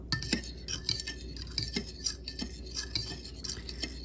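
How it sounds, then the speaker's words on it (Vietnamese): A plate stirs coconut milk and eggs in a bowl, a steady one-direction scraping with light ceramic clinks and taps, close and fairly quiet. "Mình lấy cái đĩa mình quậy cho đều, mình quậy một chiều"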